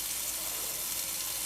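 Water poured into a bowl of cream of rice for cooking, a steady, even rushing pour that stays at constant level throughout, close by with no talking.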